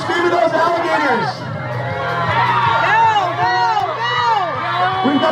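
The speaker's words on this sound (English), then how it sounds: "Come on, folks, scream at those alligators." Loud crowd of spectators at Gatorland in Orlando screaming and cheering at alligators, a dense wall of overlapping shouts and high yells filling the whole stretch with steady intensity.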